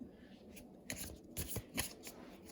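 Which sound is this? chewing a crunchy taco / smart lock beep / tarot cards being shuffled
tarot cards being shuffled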